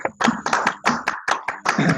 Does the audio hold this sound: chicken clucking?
no